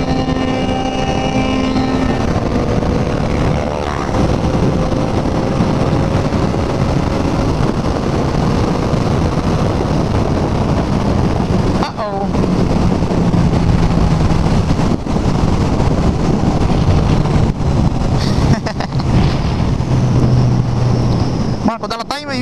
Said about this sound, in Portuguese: Essa moto não gosta de giro baixo, mano.